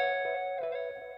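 A clean electric guitar verse fill, a sustained ringing chord with a couple of articulated notes, panned with a delay effect, decaying slowly and heard alone.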